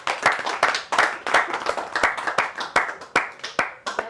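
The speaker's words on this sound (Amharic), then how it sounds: "አጨብጭቡለት" An audience claps for a short burst of applause, the hand claps crisp and closely spaced in an uneven rhythm that carries on with no letup.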